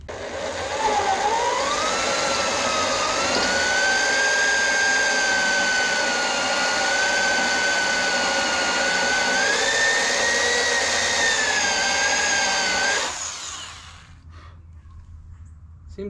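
Power tool whining steadily as it drills out a spot weld in truck sheet metal, its pitch rising and wavering under load for about thirteen seconds before cutting off abruptly; close and continuous, with no voices.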